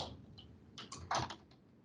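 Quiet, close clicking of a computer keyboard as someone types a short entry during an online webinar, a brief run of keystrokes.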